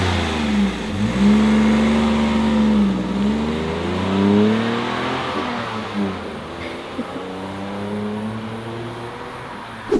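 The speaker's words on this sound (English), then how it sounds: "That is how the Ypsilon sounds from outside." Lancia Ypsilon heard from outside, its engine revving up and settling in repeated rises and falls, a moderately close mid-pitched drone with some background noise.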